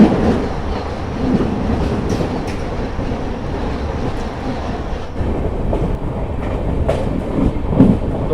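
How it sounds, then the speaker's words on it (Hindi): The Saryu Yamuna Express, an Amritsar–Jaynagar passenger train, rolls into Jalandhar City station with a steady loud rumble of wheels and carriages, faint clicks and squeals over the continuous roar throughout. "ये सामने से आ रही है train number 14650 Saryu Yamuna express"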